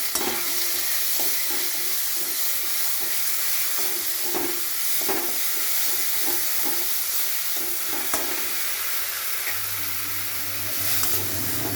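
Cauliflower and potato rezala fries with sugar in a pan, a constant loud hiss and sizzle with regular scraping stirs of a spoon, close and continuous.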